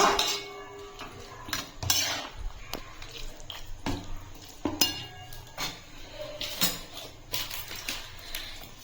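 A spoon scrapes and clinks around a pan while cheese is stirred into white sauce pasta, irregular taps and stirring strokes, close and quiet with no talk.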